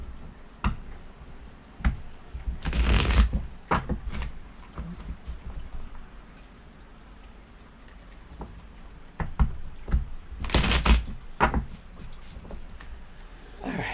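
Two bursts of crisp, papery riffling, like cards being shuffled, separated by quieter rustles and light taps in a calm room.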